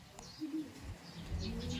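Birds cooing and chirping nearby against a low background hum, with soft calls scattered across the clip.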